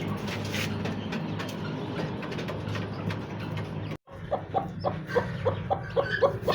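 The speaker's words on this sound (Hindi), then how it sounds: "असीर मुर्गी है जी, चीनी।" Aseel hens on a poultry farm, giving repeated close clucks that become clearer and more rhythmic after a short break, over a low background rumble.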